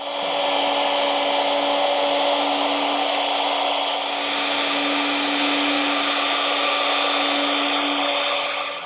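A router bit cuts a back slat mortise in wood for a Gamble chair, a loud, steady, high-pitched motor whine with a grinding cutting noise that runs without a break from start to finish.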